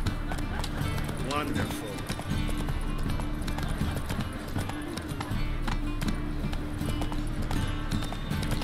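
Roach the horse gallops in The Witcher 3, a steady rapid clip-clop of hooves running continuously beneath a voice speaking briefly.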